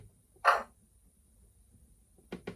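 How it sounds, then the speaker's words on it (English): A model train sound decoder plays a single sharp metallic clank of wagons coupling, then quiet, followed by a couple of softer knocks near the end; small and close. "22 is coupling."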